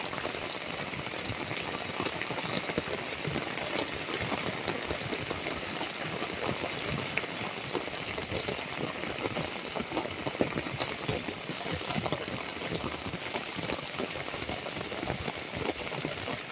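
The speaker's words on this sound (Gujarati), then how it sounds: "ગામ તો વરસાદ છે મિત્રો કેવો વરસાદ" Steady, dense rainfall patters on surfaces without letup, a constant wash of drops filling the whole scene.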